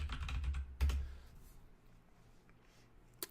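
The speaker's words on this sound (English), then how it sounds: "So I'm typing JCPenney's and now it's loading." Quiet typing on a computer keyboard: a short run of soft keystrokes, a heavier thud, then scattered faint clicks and one final sharp tap, close and without talking.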